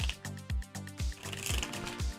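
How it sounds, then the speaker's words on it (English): Tarot cards being shuffled by hand, heard as a close, rhythmic series of soft riffling bursts with dull thumps about every quarter second, with no talking over them. "you don't want to watch me shuffle"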